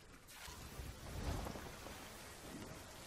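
Rain and thunder in the pirate game Sea of Thieves: a steady hiss of rainfall with a low, swelling rumble of distant thunder, heard alone at a low level.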